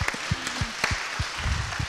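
Audience applauding after the final pitches at a Garage48 Wood event, scattered moderate clapping with distinct loud individual claps, a few voices calling out faintly underneath.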